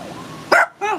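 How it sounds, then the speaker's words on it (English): A dog gives two sharp barks indoors, loud and close, the second one slightly longer, over a low steady room background. "No barking, dog. No barking."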